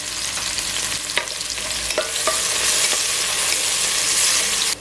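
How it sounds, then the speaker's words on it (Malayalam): Thinly sliced onion fries in hot oil for biryani, a steady close sizzle throughout with a few stirring scrapes and clinks. "ഇനി ഈ എണ്ണയിലോട്ട് തന്നെ ഒരു ചെറിയ സവോള കനം കുറച്ച് അരിഞ്ഞതിട്ട് ഒന്ന് ഫ്രൈ ചെയ്തെടുക്കാം."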